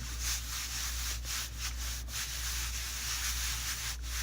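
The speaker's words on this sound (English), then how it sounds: "So I'm just rubbing that down really well" Hands rub a vintage fabric pillow cover down firmly onto a junk journal cover, making a steady, close, soft scuffing and brushing sound with several sharper swipes throughout.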